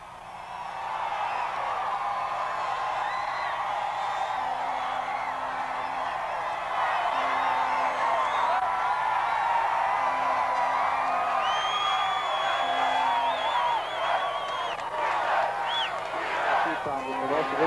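Gymnasium crowd cheering the Crusaders during the 10-minute overtime of the 1984 national championship game, Wheaton vs Brandeis, a dense steady roar of voices with whoops and shouts rising and falling throughout, loud and sustained.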